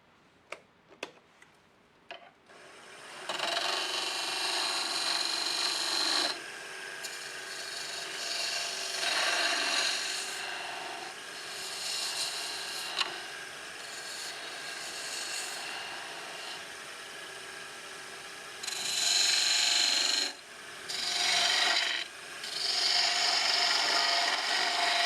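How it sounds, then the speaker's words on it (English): A half-inch spindle gouge cuts a wooden squaretop hollowform on a lathe, giving a steady close rasping hiss in long bursts with brief pauses, after a few sharp taps at the start. "I'm using my 1/2-inch spindle gouge"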